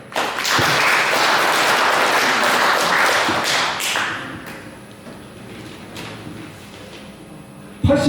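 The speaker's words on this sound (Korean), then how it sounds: "여러분 박수 한 번 크게 쳐줍시다." At a 50th-anniversary high school graduation reunion, a crowd of attendees applauds loudly for about four seconds, and the clapping then tapers into quieter room noise before a sudden louder sound at the end.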